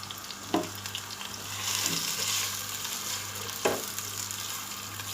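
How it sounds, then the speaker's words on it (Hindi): Onions fry in about half a cup of oil, a steady sizzle running throughout with a few sharp clinks of a utensil against the pan, close and fairly quiet, no talking. "हम इसको एक अच्छा सुनहरा कलर होने तक प्याज को फ्राई करेंगे।"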